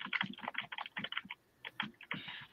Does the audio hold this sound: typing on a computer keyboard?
yes